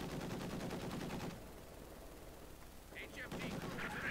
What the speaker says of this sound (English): HMD crew, heavy machine gun team prepared for combat.